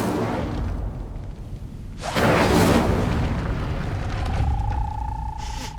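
A fire spell cast in Hogwarts Legacy bursts out as a sudden whooshing flare that swells and fades over a couple of seconds, followed by a thin sustained tone against a steady game ambience.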